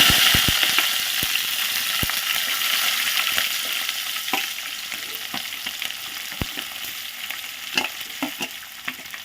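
Chopped onions and green chilies sizzle in hot tempering oil for tomato dal, a steady frying hiss broken by sharp clicks and scrapes of a spoon stirring the pan.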